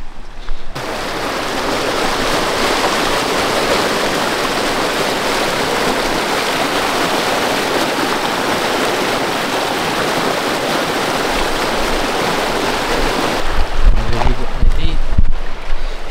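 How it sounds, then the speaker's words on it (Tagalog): River water near Coto Mines in Zambales rushes loudly and continuously, a steady close roar of flowing current, with voices and some handling noise near the end. "Tignan nyo yung tubig."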